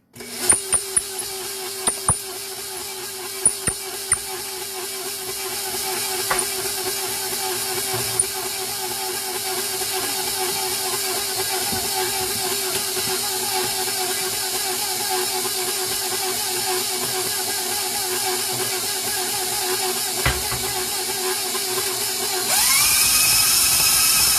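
Electric hand mixer beating a stiff apple cake batter, a steady high whirring motor drone that runs continuously and fairly loud, with a few brief clicks near the start and a louder shift in pitch near the end.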